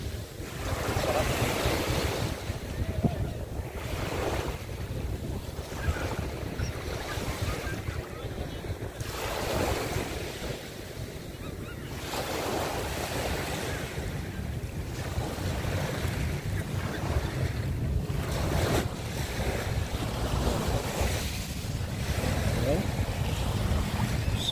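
Ocean waves roll onto Dolomite Beach in repeated surges, wind buffeting the microphone throughout, with a few people talking faintly under the surf.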